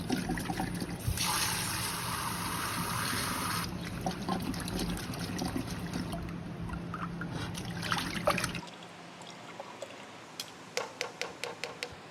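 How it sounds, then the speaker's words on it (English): Water running and trickling as sago pearls are rinsed in a kitchen, a steady close splashing flow that stops partway, followed by a few light clicks and taps. "It needs to be washed, rinsed and washed a few times."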